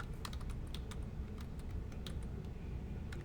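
Someone types quickly on a computer keyboard up close, a rapid, uneven patter of distinct key clicks that continues for about three seconds without speech.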